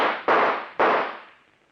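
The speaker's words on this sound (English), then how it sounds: "All right, then I'll shoot." Two sharp gunshot effects from a radio drama fire about half a second apart, each a loud crack with a decaying tail, alone with no talk.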